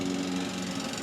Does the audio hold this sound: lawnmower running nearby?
yes